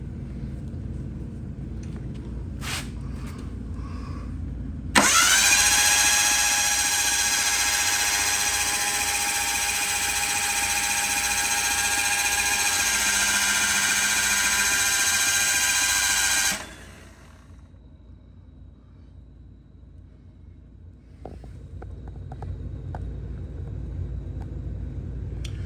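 A Mitsubishi Mirage 1.8L DOHC turbo engine cranked over with its spark plugs removed gives a loud, steady starter whine and whir that runs unbroken for about twelve seconds and then cuts off, with a low mechanical rumble before and after.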